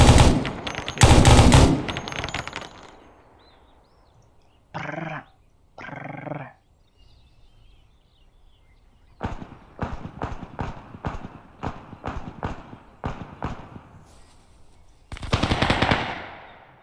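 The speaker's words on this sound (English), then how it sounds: "All this gunfire in the town has attracted attention." Gunfire in the combat video game ArmA 3, with a few sharp single shots and short bursts early on, then a fast run of rapid automatic fire and a final heavy burst, loud and near.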